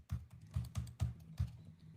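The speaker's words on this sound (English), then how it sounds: "Sorry, I'm typing to the chat." Fingers tapping a computer keyboard in quick uneven bursts of close, crisp clicks, typing a chat message during a live fantasy football stream, with no talking over it.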